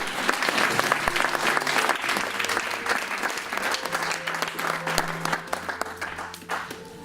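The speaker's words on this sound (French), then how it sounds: "Est-ce qu'on peut acclamer la parole de Dieu?" A church congregation bursts into sustained, dense applause, many hands clapping together close and loud for several seconds, with a faint tonal hum beneath.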